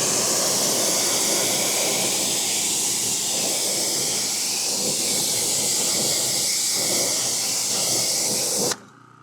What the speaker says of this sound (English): Definitely easy to rinse the product off the tire wall.